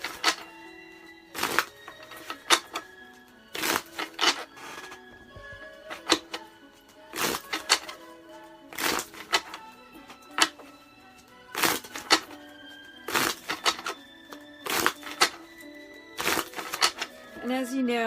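Tarot cards are shuffled by hand in repeated bursts of sharp riffling clicks, roughly every second or two, close and crisp.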